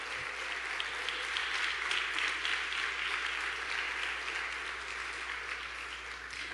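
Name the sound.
congregation applauding in church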